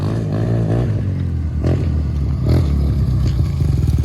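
A 2016 Yamaha TMAX 530 scooter launching hard with the rear wheel spinning: a loud, close engine roar with rough clattering and revving surges, alone without speech.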